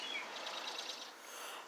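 A few birds calling from trees nearby, with thin high chirps and tweets over a steady outdoor background hiss.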